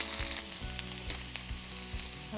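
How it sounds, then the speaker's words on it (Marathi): Mustard seeds, cumin and plenty of garlic sizzle in a spoonful of hot oil for shevai upma, a close bright hiss with a few soft pops over a steady low hum. "त्याचं तेल तापलं आपण घालणार ज्यात मोहरी जिरे खूप लसूण"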